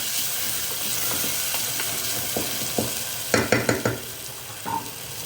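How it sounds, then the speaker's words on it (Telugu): Cashew and coconut paste fries on low heat with a soft, constant sizzle, and a spoon knocks and scrapes against the pan in a quick burst of sharp clacks partway through. "కాజు ఇంకా కోకోనట్ పేస్ట్ అనేది ఇది కొంచెం ఫ్రై చేసి సిమ్లో పెట్టి కొంచెం ఫ్రై చేసి చేద్దాం"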